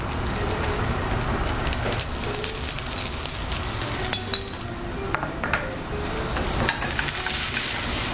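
Corn tossed into a pan of frying okra, a steady sizzle with scattered scrapes and clinks of a utensil stirring against the pan, close and fairly quiet, no talking.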